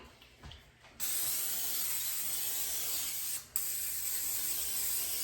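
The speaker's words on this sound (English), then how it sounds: "Let's spray the cookie sheet." Cooking spray hissing steadily onto a cookie sheet for several seconds after a brief quiet start, with a short gap in the middle, close by.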